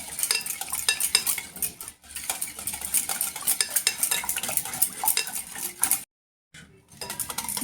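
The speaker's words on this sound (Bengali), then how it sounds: "সব সময় একদিকেই ঘাঁটতে হবে এবং ভালোভাবে ঘেঁটে নিতে হবে এটা" A utensil stirs orange cake batter in a bowl in one direction, a run of quick scraping and clinking strokes close up, pausing briefly near the end before resuming.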